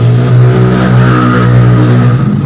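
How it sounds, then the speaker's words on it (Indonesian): Road traffic passing right beside a house: a loud, close car engine drones steadily throughout, like a vehicle driving past at speed. "Maaf sedikit berisik karena rumah saya pinggir jalan persis"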